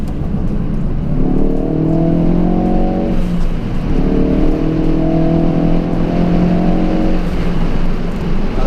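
Ford Focus RS at full throttle, a loud engine heard from inside the car climbing in pitch through one gear, a brief dip at the shift, then climbing again through the next gear.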